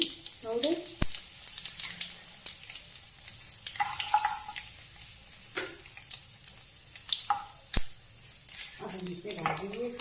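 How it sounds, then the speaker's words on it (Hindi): Cumin and turmeric powder frying in a pan, a low continuous sizzle with intermittent sharp clinks and stirring scrapes, while a voice talks over it in short phrases. "जीरा भून गया, अब हम डालेंगे हल्दी पाउडर।"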